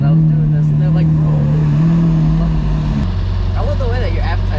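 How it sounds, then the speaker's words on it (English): Steady low engine drone of a Lamborghini sports car heard from inside during a ride, loud and continuous, shifting to a lower rumble partway through while people talk over it. "It's not every day a kid gets to ride in a Lamborghini."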